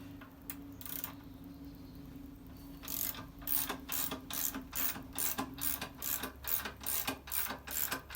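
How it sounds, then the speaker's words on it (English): A jack lowering a 1980 Harley Davidson Ironhead Sportster motorcycle, with rapid ratcheting clicks in uneven bursts close by, quiet at first and then in a steady repeated rhythm, under a faint background hum. "I will then lower the bike down so that the weight is taken by the ground on the back wheel"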